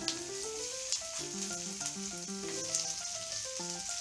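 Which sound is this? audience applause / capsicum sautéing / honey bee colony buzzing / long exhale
capsicum sautéing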